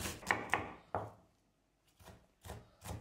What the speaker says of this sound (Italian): Tritare gli scaloni al posto della cipolla perché sono un pochino più delicati.